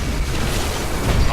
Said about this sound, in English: Even after you kill a Titan, though, it can still kill you back, sometimes detonating in a nuclear explosion that kills everything in a close radius.